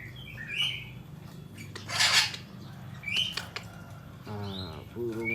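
A caged rivew songbird kept as a master bird for training competition birds gives scattered chirps, short whistles and a rising trilled phrase at moderate distance, with faint clattering in the background.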